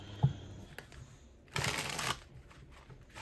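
Tarot cards being shuffled by hand in a quiet room, a short riffling burst in the middle with a few lighter card taps before and after, close and soft.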